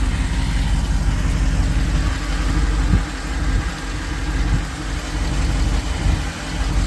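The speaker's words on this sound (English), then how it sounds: "The motor sounds really good, so that's comforting." A certified pre-owned Jeep fitted with a winch idles nearby, a loud, steady engine rumble with a slight surge partway through and no one talking.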